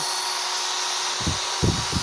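A hammer drill running straight off solar panel power in weak sunlight gives a continuous high whine, then a few low thumping bursts near the end as it starts hammering into something.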